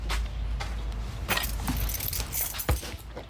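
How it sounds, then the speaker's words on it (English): A set of car keys jangles as they are picked up, several bright metallic rattles scattered across a few seconds, close and clear, with faint background handling noise and no speech. "Let me grab my keys."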